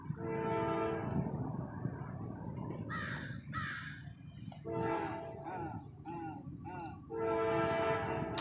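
A train horn blows in repeated long, loud blasts with short gaps, interleaved with harsh cawing from nearby crows, heard from trackside at a distance.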